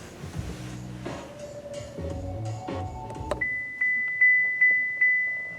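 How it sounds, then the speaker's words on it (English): A 2018 Buick Enclave's rear seat reminder chime: a string of clear, evenly spaced electronic dings sounding inside the cabin, following a few seconds of lower tonal chimes and car noise. "What you are hearing is the rear seat reminder system"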